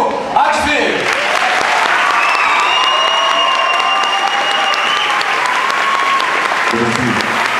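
An audience at a tenth-anniversary gospel concert applauds and cheers as a vocal quartet is called up on stage; loud sustained clapping with some whistles, while a voice speaks briefly near the start and again at the end.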